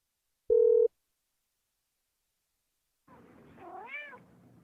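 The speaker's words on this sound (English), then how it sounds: "Leave a message after the meow, and we'll get back to you." A cat meows on an answering machine greeting: a short electronic beep tone, a pause of silence, then a single drawn-out rising and falling meow, close and clear.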